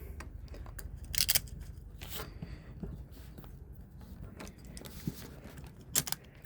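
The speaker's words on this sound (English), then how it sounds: "I cut a piece of paper." Scissors snip through a piece of paper during a motor stator rewinding job, a few short crisp cuts close by over a low background hum, with no talking.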